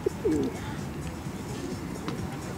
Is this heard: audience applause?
no